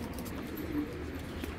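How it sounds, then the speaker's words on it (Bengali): A pair of khaki pigeons with parrot-shaped heads coo softly, close by, with low murmuring calls blending into a steady background hum. "একেবারে তোতা মাথার একজোড়া খাকি কবুতর"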